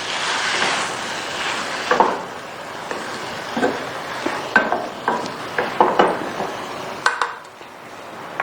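Green chillies and chopped onion being stirred in a pan: a spoon scrapes and clinks against the metal again and again in an uneven rhythm, close and clear, with a faint sizzle underneath.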